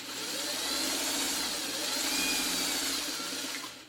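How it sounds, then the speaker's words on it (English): A sewing machine stitches down the pieces of a quilted picture frame with a steady, continuous motor whir that swells slightly and then trails off at the end. "we're just going to start sewing down these."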